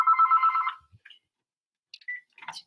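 A telephone rings once during a webinar, a short pulsing electronic trill lasting under a second, followed by a quiet gap and a few faint, brief electronic blips.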